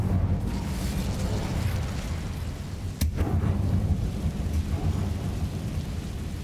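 A chain of fiery explosions set off by the Incendio fire spell in Hogwarts Legacy, a loud, continuous roaring rumble broken by one sharp, cracking blast partway through.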